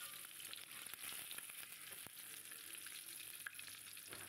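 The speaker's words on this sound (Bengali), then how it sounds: "ডিমটা একটু কড়া করে ভেজে নিতে হবে।" Eggs fry hard in a pan, giving a quiet, continuous hiss with faint crackles and an occasional soft tap, heard at low volume without any talking.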